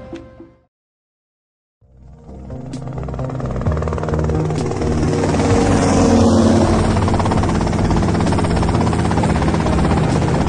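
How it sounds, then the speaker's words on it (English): A helicopter in the intro of GTA Vice City starts up after a short silence and settles into a loud, steady rotor drone that fills the rest of the scene. "Okay, that's them in the chopper."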